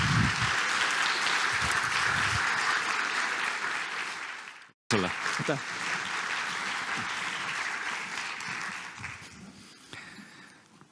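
Audience applause at a talk about the Iva app, loud and sustained, breaking off briefly midway and then resuming at full strength. A voice speaks briefly over the clapping.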